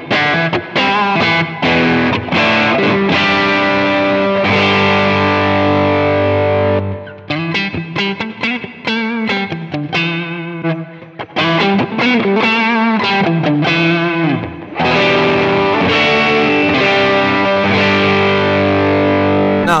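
An electric guitar played through the Texas overdrive channel of a Strymon pedal, heard via an HX Stomp, rings out loud and distorted, with sustained chords and choppy riffed passages alternating, played alone without talk.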